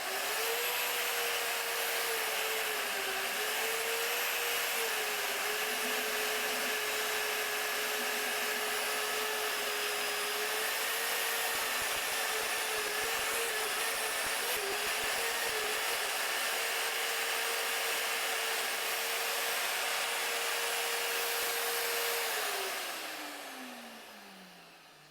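An Evolution EvoMag42 magnetic drill bores a 1-inch hole through 1/2-inch metal, a loud, steady motor whine with grinding cutting noise that holds for about twenty seconds, then the pitch falls as it winds down.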